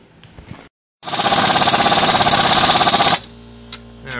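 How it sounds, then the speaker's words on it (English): Strut bolts on a 2005 Chevy Uplander are driven in with a rapid burst of loud, close mechanical hammering lasting about two seconds, followed by faint clanks and knocks. "Now it's just a matter of beating these in and putting the nuts back on here and tightening the top."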